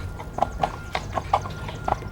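Horses pulling a wagon clip-clop in a steady, even rhythm of hoofbeats on hard ground, close and clear with no other sounds.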